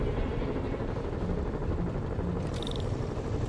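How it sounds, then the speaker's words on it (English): Helicopters fly over the city in the video game Spider-Man Remastered, a steady broadband rotor rumble and whir filling the scene throughout, loud and continuous, with a brief high electronic beep near the end and no talking. "Bet I can use those helicopters to swing."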